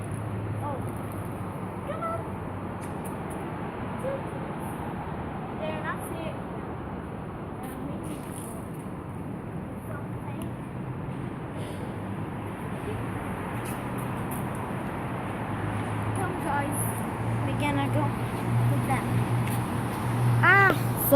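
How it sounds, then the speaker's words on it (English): A cat purrs and meows near the microphone while waiting for treats, with short meow calls standing out over a steady low rumble, faint traffic and occasional talk in the background. "She's already purring."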